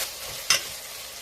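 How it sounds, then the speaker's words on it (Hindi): Garlic-ginger paste frying with meat in a pan as it is stirred, for a bhindi gosht (okra and meat) dish: a steady soft sizzle with one brief, sharper scrape of the spoon midway. "पेस्ट ऐड करने के बाद दोबारा से इसकी 2 मिनट तक भुनाई करनी है अच्छे तरीके से"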